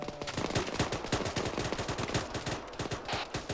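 Sustained rapid machine gun fire in the Arma game on the Chernarus map, a dense rattling stream of closely spaced shots, loud and near, running continuously without pause.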